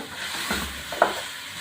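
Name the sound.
stir-frying spices with mutton in pan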